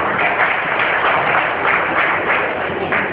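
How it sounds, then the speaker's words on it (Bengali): An audience at a Rotaract club event in Bengal applauds, a dense sustained wash of clapping from many hands at fairly close range, steady throughout with no clear speech over it. "রোটারেক্টর শিবলু এবং তার বোর্ডের জন্য খুব জোরে একটি করতালি"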